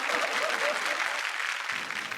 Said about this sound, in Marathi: जोरदार टाळ्या झाल्या पाहिजे ताईंसाठी